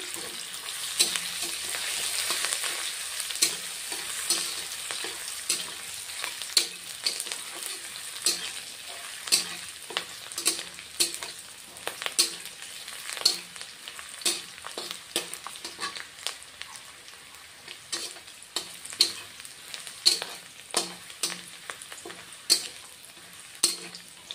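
A bay leaf sizzles in hot oil for a Bengali katla fish curry, with a bright continuous frying hiss punctuated by frequent crisp pops and spatters, close and steady.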